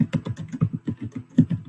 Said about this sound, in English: Whoever's typing, you sound mad.